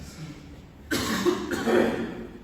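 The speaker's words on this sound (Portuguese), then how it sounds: "que tosse chata" A single harsh cough bursts out close to the microphone, followed by a second rougher cough, over quiet room noise.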